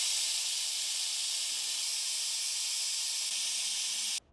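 A fluid recovery tank draws old power steering fluid from the reservoir of a 2007-2013 Acura MDX, making a steady suction hiss that runs evenly and then cuts off abruptly.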